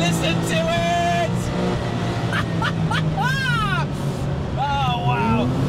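A Gunther Werks restomod of a Porsche 993 911 gives a steady, loud engine drone that runs throughout, with people talking over it.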